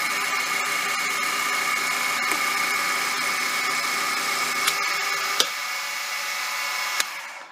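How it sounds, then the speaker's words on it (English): Milling machine taking a light climb milling pass on a Ford Model R axle, a steady whining motor hum with a few sharp ticks near the end. "And then we'll make a climb milling pass back towards the other end."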